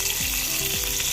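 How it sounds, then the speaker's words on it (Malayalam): Ghee sizzles steadily in a hot cheenachatti pan on a gas stove, a dense, bright crackling hiss that holds even and close throughout with no talk. "ചീഞ്ചട്ടിയിൽ കുറച്ച് നെയ്യ് ഒഴിച്ച് കൊടുത്ത്"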